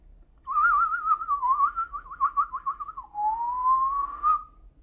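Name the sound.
whistled bird call imitation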